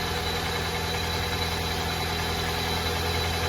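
A Ford Fusion engine idles in park, a steady, even low hum with a faint high whine, close by and unchanging, with no talking.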